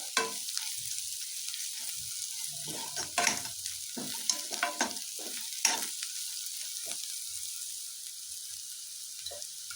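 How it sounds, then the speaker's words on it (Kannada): Onions fry in a pan for Hyderabadi dum biryani, giving a continuous close sizzling hiss broken by occasional scraping stirs. "ಈ ಥರ ಚೆನ್ನಾಗಿ ಫ್ರೈ ಆಗಲಿ ಫ್ರೈ ಆಗ್ತದೆ ಈರುಳ್ಳಿ"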